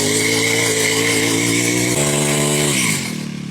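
A 49cc four-stroke pocket rocket mini motorbike revs hard and loud up close, a steady buzzing engine note that climbs, then drops toward idle near the end.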